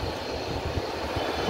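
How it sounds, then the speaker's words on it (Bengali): An Air Astra airplane takes off from an airport, a brief, steady, droning engine roar with a deep rumble, continuous and fairly loud throughout. "এই তো এয়ার স্টার বিমানটি আকাশে উড়ে গেল।"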